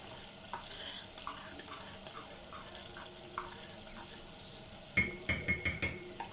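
Yogurt masala mixture goes into a pot of meat for achar gosht, with a faint steady sizzle, light scrapes while stirring, and a closing run of louder clattering knocks of a spoon against the pot.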